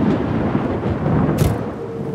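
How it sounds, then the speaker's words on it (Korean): Thunder rolling through a heavy nighttime rainstorm, a loud low rumble over a constant wash of rain, with a brief bright crackle near the middle. "천둥 번개가 요란하게 치고 폭우가 쏟아지는 밤."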